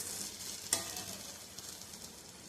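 Sweet sev vermicelli is turned over in a covered pan after cooking in milk, giving a soft stirring scrape with a faint sizzle and one brief clink, quiet and close.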